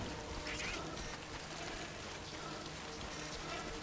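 Steady rain pattering on surfaces in Death Stranding Director's Cut, a continuous even hiss filling the scene with no speech.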